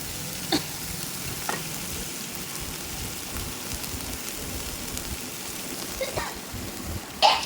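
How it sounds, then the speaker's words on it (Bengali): Masala spice paste sautés in a pan for a prawn and taro dish, giving a faint, steady sizzle with a few soft scraping clicks of stirring spread through the clip. "তো দেখো মশলাটা আমার প্রায় কষানো হয়ে গেছে"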